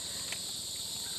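Cicadas drone at night in a continuous, high, steady shimmering buzz that fills the background evenly, with no voices over it.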